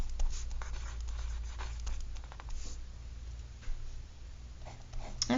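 Pen strokes scratch steadily as a number line is drawn by hand during a polynomial inequalities math lesson, with a soft continuous scrawl broken by short taps and lifts, close and unaccompanied by talk.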